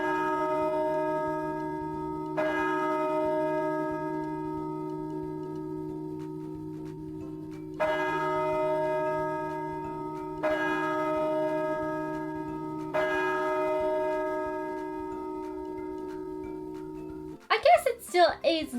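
An Irish church bell rings the Angelus in slow, evenly spaced strokes, each long resonant toll decaying into the next, before a brief burst of other sound cuts in at the very end.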